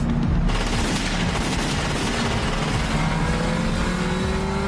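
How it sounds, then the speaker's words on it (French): Gunfire from a car in a Los Angeles drive-by shooting rattles as a dense burst layered over a loud engine roar, continuous and close throughout, without any talking. "Les fameuses fusillades en voiture sont nées."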